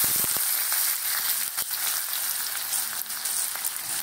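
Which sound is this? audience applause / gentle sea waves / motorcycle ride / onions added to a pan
onions added to a pan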